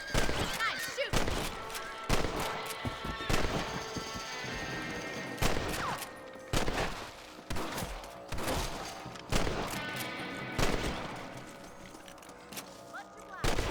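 Gunfire in the Western video game Red Dead Redemption: a series of sharp, loud shots in irregular bursts over about fourteen seconds, with character dialogue around them.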